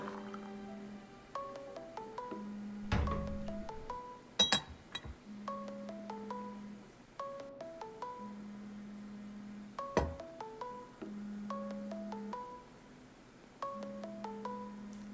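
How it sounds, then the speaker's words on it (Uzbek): A phone ringtone plays a repeating melodic pattern of short electronic notes over a low hum, with a few clattering bumps in between. "telefon qilyapti sizga"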